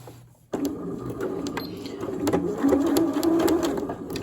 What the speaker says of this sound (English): we're going to do a little zigzag at the beginning, little zigzag at the end